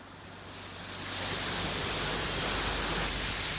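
A roadside waterfall roars as a dense, broadband rush of falling water that starts somewhat quieter and swells to a loud, constant wash by about one second, with no voices.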